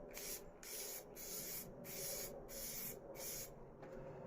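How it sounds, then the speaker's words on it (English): Repeated short bursts of aerosol spray paint on a Lucid 405 case lid, about seven hissing blasts in a steady rhythm with brief pauses between them. "we're going to spray the top section there first"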